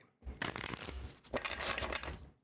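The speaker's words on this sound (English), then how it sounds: "Let's do another little shuffle." Tarot cards are shuffled close up in two quick riffling bursts, a crisp papery flutter that rises, pauses briefly, then rattles again before stopping.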